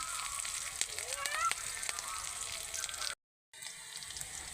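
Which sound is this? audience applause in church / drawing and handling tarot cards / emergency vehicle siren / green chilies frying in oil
green chilies frying in oil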